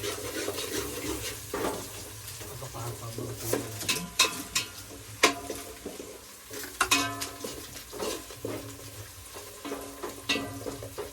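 Spices tempered in hot oil for Maggi noodles in a home kitchen at night: scraping stirs and clinks of a spoon against a pot over a soft background sizzle, with irregular knocks throughout.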